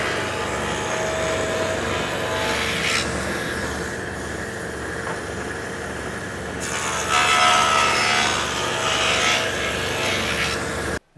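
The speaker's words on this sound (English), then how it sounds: "This method, using a table saw, will give you a perfectly centered groove" A table saw cuts a centered groove in a wooden board, giving a steady, loud whirring blade hum with rasping wood-cutting noise that brightens and dips as the board passes through, then stops abruptly.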